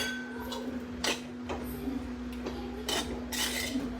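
A simple beetroot stir-fry seasoned with ground pepper is stirred in a pan, with a few distinct spatula clinks and scrapes over a faint, steady background hum.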